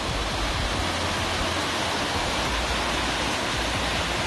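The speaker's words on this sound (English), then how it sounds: "There's some waterfall" A steady, dense roar of rushing water from a waterfall at Dolphin's Nose, Kodaikanal, fills the scene continuously without pause or voices.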